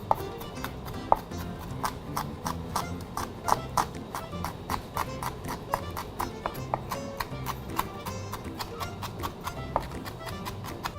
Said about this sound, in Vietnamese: Các bạn băm thật nhỏ phần tỏi và ớt ra.